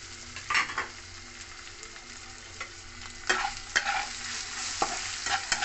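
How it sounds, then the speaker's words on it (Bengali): Ground spices (salt, Kashmiri chili powder, turmeric, cumin powder and sugar) fry in oil for sabudana khichdi, a steady sizzle broken by scraping stirs of a spatula against the pan. "ভালো করে কষিয়ে নেব।"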